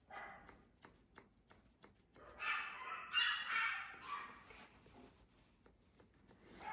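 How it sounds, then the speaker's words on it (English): Puppies play with a toy, giving faint yips, small barks and squeaky whimpers in quick scattered bursts, with a busier cluster of high squeals in the middle, all fairly distant and quiet. "Those puppies are having a lot of fun playing with each other right now."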